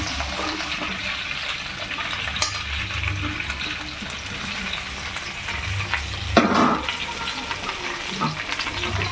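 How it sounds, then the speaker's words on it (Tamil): Okra sautéing in a pan for a coconut milk tamarind kootu, a steady broadband sizzle running throughout with occasional stirring clatter, near and fairly loud with no talk. "அதுக்கு முன்னாடி வெண்டைக்காய் வதக்கிக்கலாம்"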